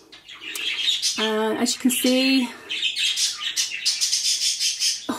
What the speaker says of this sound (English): Excuse my budgies, bless them.